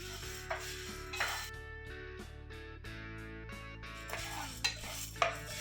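Urad dal and chickpeas being dry roasted in a pan give soft stirring and scraping with a few light clinks against the metal, partly under steady background music.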